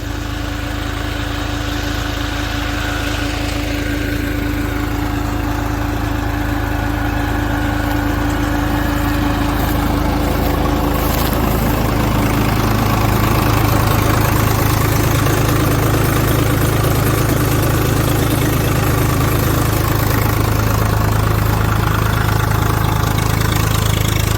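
A generator engine pumping irrigation water for a mung bean field drones steadily and loudly throughout, a constant low mechanical hum with no pauses.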